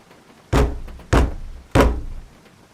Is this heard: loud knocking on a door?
yes